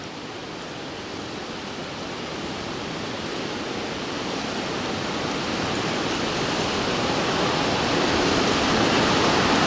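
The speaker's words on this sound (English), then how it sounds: "a little waterfall." A small roadside waterfall beside the highway to Valdez, Alaska, gives off a steady broadband rush of falling water that grows slightly louder over time, with no voices.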